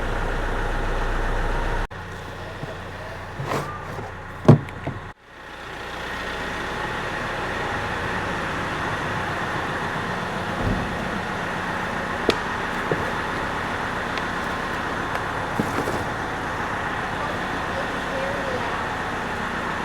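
A tractor engine starts up and then runs steadily at idle nearby, a loud, constant rumbling drone that lasts throughout, with a few faint clicks and knocks over it.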